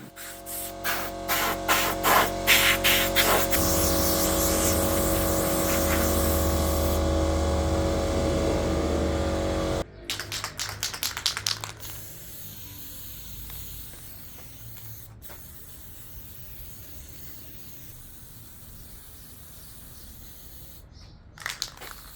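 A loud pneumatic spray of lacquer onto a walnut slab hisses in bursts for several seconds, then stops, leaving faint handling noises and quiet room tone.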